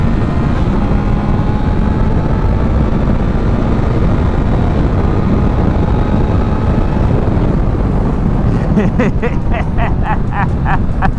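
A Triumph Trident 660 motorcycle pulls hard at full power in 2nd gear, a loud, continuous engine roar buffeted by heavy wind noise from riding, with the tone shifting near the end.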